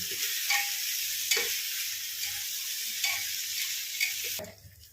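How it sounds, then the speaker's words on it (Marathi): Egg rice ingredients stir-fried in a pan, giving a steady close sizzle with occasional scraping strokes of a spatula, and no talk. "छान परतून घेऊ"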